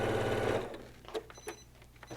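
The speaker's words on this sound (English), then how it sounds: "All right, machine, let's do some sewing." A home sewing machine stitches a quarter-inch seam through two pieces of fabric in a steady whirring burst that stops after about half a second, followed by faint handling clicks and rustles.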